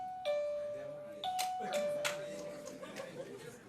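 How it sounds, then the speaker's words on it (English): Contestants from two universities sound their bells at a national business quiz championship, producing a few bright ding-dong chimes in quick succession amid audience chatter and light laughter in a hall. "Contestants are to indicate their readiness by ringing a bell."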